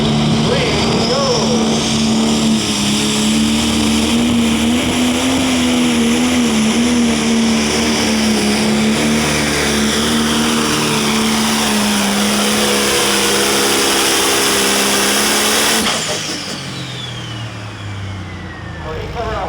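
A big-turbo Pro Stock pulling tractor at a tractor pull in Henry, Illinois roars loudly and continuously for about sixteen seconds as it pulls, the pitch wavering, then the noise drops off abruptly to a quieter idle.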